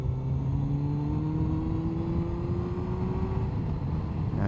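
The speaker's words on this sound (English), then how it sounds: "Little downshift here." A motorcycle on a ride along Elm Pass Road, its engine droning steadily close by while the pitch shifts and climbs as it downshifts, over a constant low rumble of road and wind.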